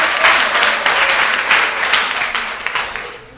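An audience at a St. Ann youth chat event gives elected officials a steady round of dense clapping that holds loud throughout and tapers slightly at the end.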